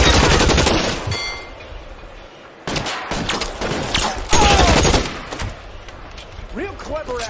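Gunfire in the L.A. Noire video game: bursts of rapid shots with sharp impacts, loud and close, ringing out in several volleys with brief lulls between them.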